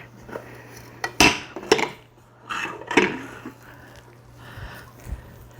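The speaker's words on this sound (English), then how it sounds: "And you want to remove the dough from your bread maker." Metal bread maker pan clanks and scrapes as it is pulled out of the machine with honey oat bread dough inside, a few sharp knocks and rattles close by against a low steady hum.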